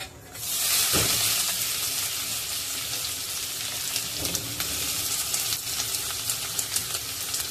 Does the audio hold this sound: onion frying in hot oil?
yes